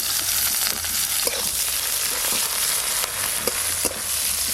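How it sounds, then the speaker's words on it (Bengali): Chopped onion hitting hot oil seasoned with whole garam masala for an egg curry, giving a steady close sizzle with occasional stirring clinks and scrapes throughout. "ফোড়ন হয়ে গেছে, পেঁয়াজ কুচি দিয়ে দেব।"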